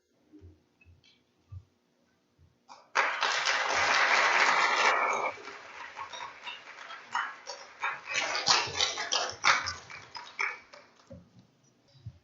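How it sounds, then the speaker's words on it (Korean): Congregation applause at a Sunday autumn revival church service, welcoming missionary Paul Hawkins to the front. After a few seconds of quiet with scattered soft sounds, a dense burst of clapping breaks out, then thins into uneven, tapering claps. "이 시간 성교사님 나오실 때 우리 다 같이 박수로 환영해 주시기 바랍니다."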